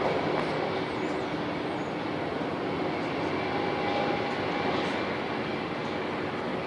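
A Qantas airliner takes off from runway 34 at Melbourne Airport, a loud, continuous broadband engine roar that holds steady throughout without letting up, with no voices over it.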